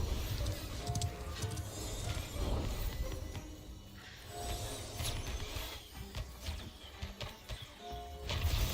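A summoned horse in the fantasy MMO Ashes of Creation, with hoof clip-clops and a short whinny mixed into busy game combat noise and effects throughout.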